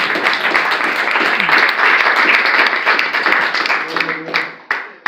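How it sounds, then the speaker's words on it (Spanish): Church congregation applauding during a Spanish-language service, a dense steady wash of many hands clapping for about four seconds before thinning out and fading, with a voice briefly speaking near the end. "Den un aplauso al Señor."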